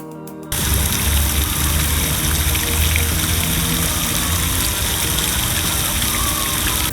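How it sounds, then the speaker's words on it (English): Water rushes steadily from the Fountain of Seahorses in a Philadelphia park, a loud, continuous broadband splash and gush that starts abruptly and holds even throughout, with no voices over it. "headed to the park where I visited the Fountain of Seahorses"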